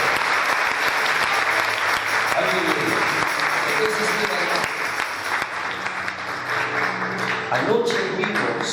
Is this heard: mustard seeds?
no